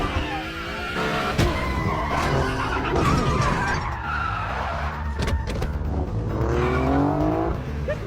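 A car drives off hard, its tires skidding and squealing loudly in long, swooping screeches over a rough engine roar, with some engine revving, close and continuous.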